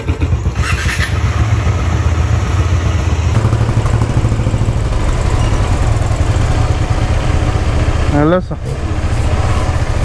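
An old motorcycle engine idles close by with a steady, low rumbling throb that holds for the whole stretch, while someone speaks briefly over it.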